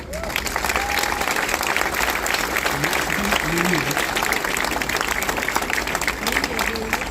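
An outdoor crowd at the inauguration of a rose exhibition applauds artistic director Éric Monvoisin, steady clapping throughout with voices and faint tonal sounds mixed in.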